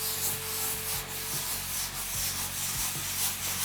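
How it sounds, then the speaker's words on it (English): A stiff scrub brush works degreaser into oil-stained concrete, giving steady rough scratchy strokes in a close, continuous rhythm with no voices. "taking a scrub brush, we're just going to work it into the surface"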